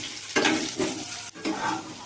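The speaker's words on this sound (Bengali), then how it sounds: "দিয়ে প্রথমে আলুগুলো একটু ভেজে নেবো ভালো করে" Potatoes fry in a wok with bay leaf and whole cumin, three short bursts of sizzling and scraping as they are stirred, close and fairly loud, no voices.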